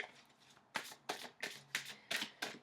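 Tarot cards shuffled by hand close up, a series of about seven crisp riffling bursts in an even rhythm, each a sharp papery flutter, with no talk.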